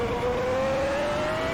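Pagani Zonda R hypercar in Assetto Corsa, its engine screaming loud and close with a steadily rising pitch under acceleration, continuous and without speech.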